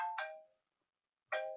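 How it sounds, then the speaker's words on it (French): Two short electronic mobile phone ringtone bursts separated by about a second of silence, clear and fairly quiet, heard alone without talk. "Excusez-moi pour mon petit portable qui a sonné."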